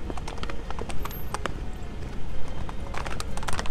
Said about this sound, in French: Nous avons actuellement les courses de chevaux.